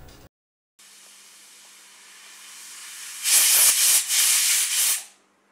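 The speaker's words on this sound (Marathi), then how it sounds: "मध्यम आचेवर ह्याच्या 6 ते 7 शिट्ट्या होऊ द्यायच्या आहे" A pressure cooker vents steam while boiling jujube berries: a quiet steady hiss builds gradually, then bursts into a loud, sputtering steam release for about two seconds before cutting off.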